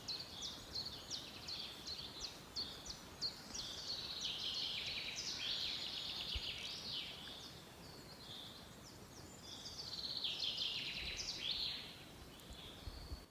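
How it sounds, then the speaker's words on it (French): Birds sing and chirp outdoors along a hiking trail in the Auvergne lakes and volcanoes region, a continuous chorus of bright, overlapping calls over a low rustling background, fairly faint and without talk. "écoutez les oiseaux."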